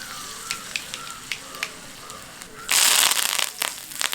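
Dried red chilies and mustard seeds hit hot oil for a spiced okra masala, giving scattered pops and crackles that swell into a loud, dense sizzle partway through.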